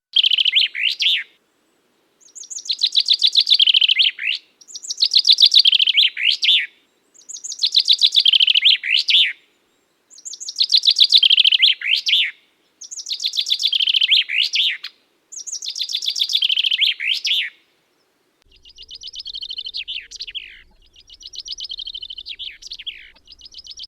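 Common chaffinch (Fringilla coelebs) singing close and loud, seven repeated descending song phrases separated by short pauses, followed by two softer, shorter phrases, with no voices.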